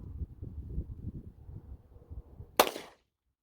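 A single sharp gunshot from a Glock 27 pistol firing a .40 S&W Remington Golden Saber 180 grain round, heard a little way off after low rumbling background noise, then silence.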